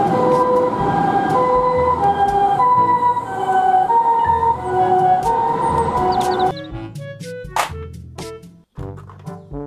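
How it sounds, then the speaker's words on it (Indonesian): A toy ambulance's wailing siren cycles loudly and close, then cuts off, leaving scattered clicks and knocks. "Mobil ambulans."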